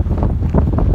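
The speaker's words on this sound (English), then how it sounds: "So windy." Strong wind buffets the microphone beside the aqueduct, a loud, continuous low rumble with gusty surges and no voices.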